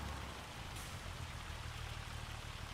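Hail pelting down in the Farming Simulator 25 game while baling, heard as a dense, steady hiss of countless small impacts over a low machine hum, constant and fairly quiet, no speech.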